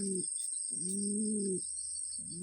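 Red Siraji pigeons give low, drawn-out coos, about three in a row, close to the listener. A thin, steady high whine runs underneath and no one speaks.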